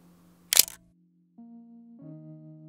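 A Samsung Galaxy S10 fires its camera shutter once, a sharp close click, followed by a couple of soft electronic tones in an otherwise quiet room.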